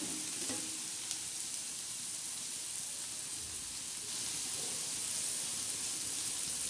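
Okra with green chillies sizzles steadily in a pan while being stirred, a close, continuous soft frying hiss with occasional scrapes.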